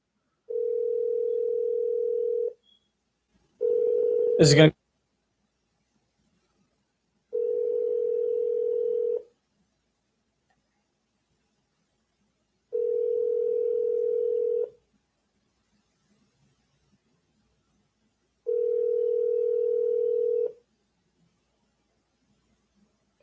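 Phone call to a radio talk show: a steady dial tone, then a short burst of dialing, followed by four evenly spaced ringback tones with long silences between, and a brief spoken question near the start.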